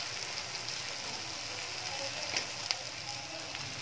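Spice paste sizzles and fries steadily in a pan for a katla fish curry, a soft, even hiss with faint crackles and a couple of small pops near the end.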